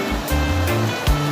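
Riverside river flowing on a road trip, a loud broadband rushing wash of water close by with a few brief thuds, no talk.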